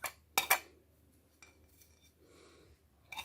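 A spoon clinks against a bowl while spices are mixed into chana chaat, a few sharp metallic taps near the start followed by softer scraping and one more clink at the end, close and quiet.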